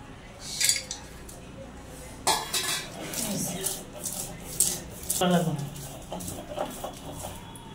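Nuts being mashed by hand for a Bangladeshi nut bharta: rough, close grinding and scraping against a dish with clatter of utensils, continuous and fairly loud, with chickens clucking in the background and a voice talking over it.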